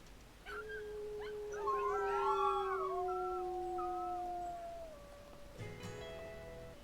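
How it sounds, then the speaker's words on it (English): Wolves howl in the video game WolfQuest, several long sustained tonal howls overlapping and sliding in pitch, fairly loud and close, ending with a short yipping call. "we're going to howl as well to raise pack affinity"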